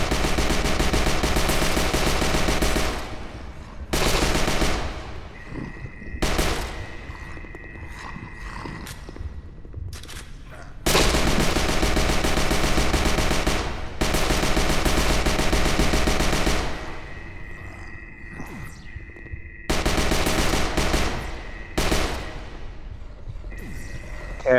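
Zombie shooter HordeZ in Steam VR unleashes heavy bursts of rapid automatic gunfire, loud and close. Long sustained volleys alternate with brief pauses and reverberant tails, with no voices heard.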